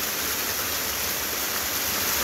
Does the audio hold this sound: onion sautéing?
no